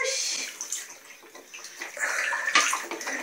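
A small child is bathed in a tub, water splashing and sloshing in irregular bursts close by, with soft voices murmuring under the splashes.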